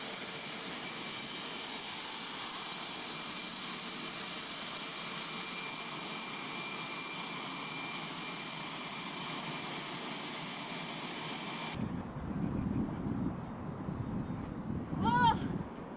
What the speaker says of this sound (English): we're going to pull the plane in here, stop it, and I'm going to shut this thing down